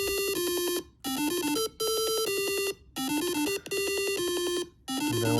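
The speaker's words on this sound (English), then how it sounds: "when the photoresistor senses light," A simulated intruder alarm set off by a photoresistor sensing light, blaring a loud repeating electronic melody in bursts separated by short gaps, with no talking.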